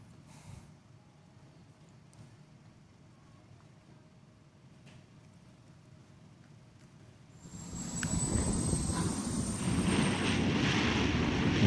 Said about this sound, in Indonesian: Militer Israel memamerkan sejumlah pesawat yang terlibat dalam operasi penyerangan ke Beirut dan Lebanon Selatan.